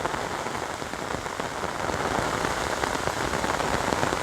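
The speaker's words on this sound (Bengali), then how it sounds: "বৃষ্টি একাধারে বৃষ্টি হইতেছে" Steady monsoon rain falls on green village crop fields and an empty road, a continuous loud wash of raindrops that builds slightly as the wind picks up.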